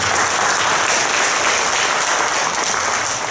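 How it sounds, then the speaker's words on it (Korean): Steady, dense applause from a seminar audience at an academy information session, loud and continuous throughout with no pauses and no talk over it. "큰 박수 부탁드립니다"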